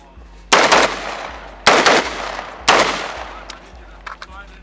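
Three loud, close gunshots at an outdoor shooting range, evenly spaced about a second apart, each with a short echoing tail, followed by faint distant shots.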